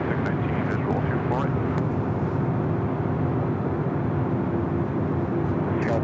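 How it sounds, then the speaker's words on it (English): Korean Air 747-8 Intercontinental jet arriving at LAX from Seoul, a steady, loud broadband engine roar that holds constant throughout with no pauses, while a voice talks faintly in the background. "Next arrival is Korean Air Flight 101, coming in from Seoul. It's a 747-8 Intercontinental, 8 years of age."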